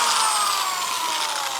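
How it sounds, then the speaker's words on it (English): A corded drill spins an old oil pump drive shaft, giving a steady, loud high-pitched whirring drone that holds without a break and drifts slightly in pitch. "I'm purposely using a corded drill because cordless drills, you'll burn them up doing this"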